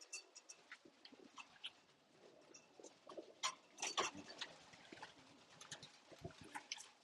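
Scattered bird chirps and calls, light and intermittent, over a quiet background with small ticks and patters.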